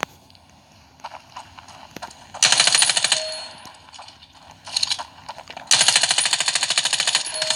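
Gunfire in the mobile shooter Standoff 2, loud rapid-fire automatic bursts in two long volleys with a shorter burst between, plus scattered single clicks and shots, close and dominant.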